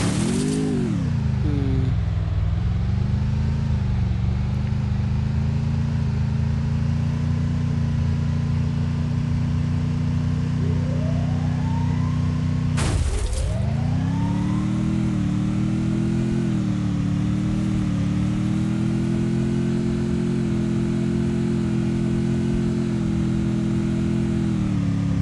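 A game car engine from Free Fire drones steadily and loud throughout, revving up at the start and again after a sharp burst midway, then settling into a constant hum.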